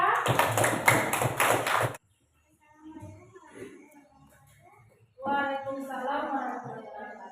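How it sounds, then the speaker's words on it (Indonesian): A classroom of students applauds group two with a burst of dense, rapid clapping lasting about two seconds, followed by a pause and then talking. "Oke, tepuk tangan dulu untuk kelompok dua."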